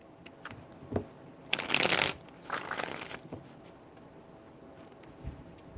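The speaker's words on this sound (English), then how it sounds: "Three shuffles." Playing cards riffle-shuffled close by, a crisp fluttering burst followed by a second, shorter one, with faint taps and handling noises around them.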